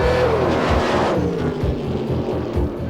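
A drag racing car powers down the Santa Pod strip at a 1995 event, its engine a loud, rough roar close by with a pitch that sweeps downward as it passes.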